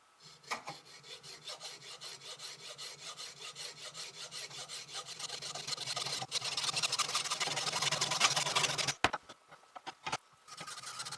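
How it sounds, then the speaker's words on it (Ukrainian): A hacksaw rasps back and forth through a metal ignition coil in steady, rapid strokes, a scratchy cutting sound that grows louder and harsher toward the end, then breaks off. "Для цього я буду використовувати ось таку пилку по металу"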